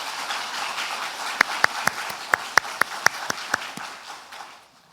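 A church congregation claps as a soft patter, with about a dozen sharper claps standing out in a steady rhythm before the sound fades away.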